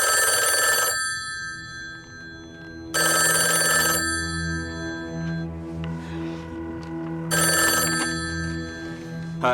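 A telephone rings in bursts of two-tone electronic trills, three separate rings spaced by pauses, loud and close, with a low musical bed humming underneath and no talking.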